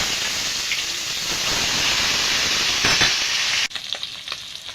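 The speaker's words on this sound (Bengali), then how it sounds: "আমি মাছগুলো উল্টে পাল্টে ভেজে নেব।" Bata fish fry in hot oil in a kadai with a loud, steady sizzling hiss that runs almost throughout, then drops away suddenly near the end, leaving softer crackles.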